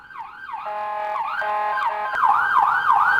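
An ambulance siren wails loud and near in repeating rising and falling sweeps, shifting to a faster yelp partway through, with no voices over it.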